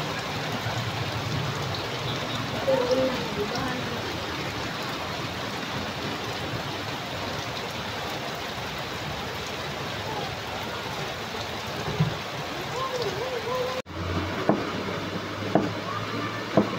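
Heavy rain pours down with a strong rush of flowing water, a dense steady hiss close by with scattered drips and splashes, ending with a brief knock.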